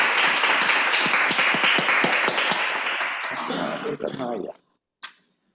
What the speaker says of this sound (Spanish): luego este aplauso para este panel